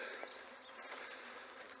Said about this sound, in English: I've got the bulk of the bees in the hive now.